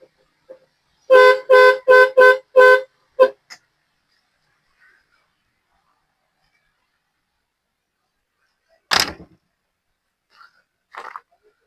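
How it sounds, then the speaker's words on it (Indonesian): A Suzuki Carry van's horn honks four times in quick succession, loud and close, followed by a short blip, then a long quiet with a few brief noises. "kemudian klakson juga dua lur"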